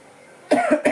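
Two or three short, harsh coughs in quick succession, close and fairly loud, after a moment of quiet.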